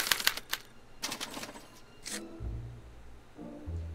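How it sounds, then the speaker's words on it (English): A special typewriter in the Back to the Future game prints a punch card, with a quick burst of sharp key strikes, a pause, then a few more clacks and a low mechanical whir, close and moderately quiet, with no talking. "they're relayed to this special typewriter, which prints out a punch card that represents the subject's mind map"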